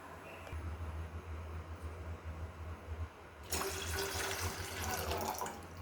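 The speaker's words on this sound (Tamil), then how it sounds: "தண்ணியை கொஞ்சம் ஊற்றி கொடுத்தோம்." Low rumbling from a lit stove gives way to a sudden rush of water pouring, splashing steadily into a pot while making French fries.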